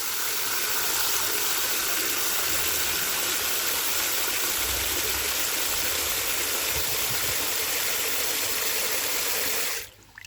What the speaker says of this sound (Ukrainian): давайте зараз залью це водою